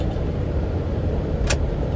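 Steady road rumble from inside a moving car fills the whole stretch, a constant low engine and tire drone with a brief higher hiss midway and no talking.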